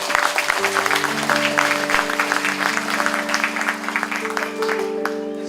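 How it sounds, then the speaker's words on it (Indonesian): A crowd at a Christmas and New Year celebration claps continuously, dense and lively, while sustained musical tones play underneath. "Tepuk tangan untuk saya"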